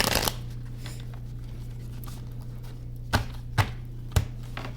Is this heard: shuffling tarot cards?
yes